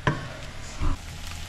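A cooking mixture browns in a pan with a low, steady sizzle and a couple of brief stirring scrapes, close and moderately loud, with no talking.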